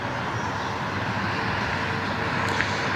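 Steady broadband jet roar of a United airliner arriving at Cleveland Hopkins airport, constant and fairly loud with no speech.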